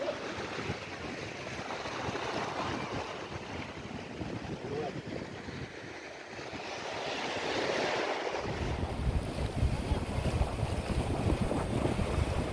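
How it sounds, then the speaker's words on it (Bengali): Steady wind gusting across an open beach with the broad wash of surf underneath, rising and getting louder partway through; no talking. "রোদটা গায়ে লাগছে না, কারণ এত হাওয়া এখানে"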